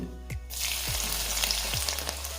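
Crushed garlic hits hot mustard oil already tempered with nigella seeds and flares into a loud, steady sizzle, close by, with a few knocks of a spoon in the pan.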